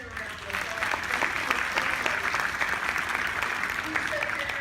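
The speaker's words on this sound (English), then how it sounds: "let's give him a round of applause" A gala crowd applauds steadily at moderate loudness for several seconds, a dense even wash of clapping with faint voices underneath.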